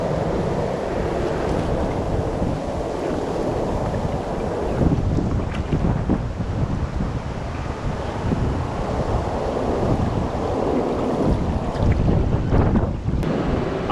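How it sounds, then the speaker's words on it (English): Waves crash and roll onto a Welsh beach in winter weather, a steady, close roar of surf mixed with gusts of wind buffeting the microphone, continuing without a break. "We expect the crashing waves of the sea."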